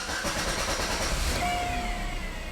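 A 2004-2007 Chevy Malibu engine cranks and settles into a steady idle, the low broadband rumble heard close and continuous for a few seconds.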